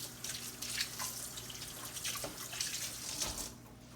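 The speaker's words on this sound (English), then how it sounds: "Now, wash my hands again here." Tap water runs steadily into a kitchen sink while hands are washed during home cooking of an herb-roasted hen, with soft splashes and drips over a low, quiet background hum.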